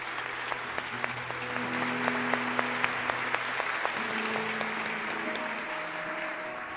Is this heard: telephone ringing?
no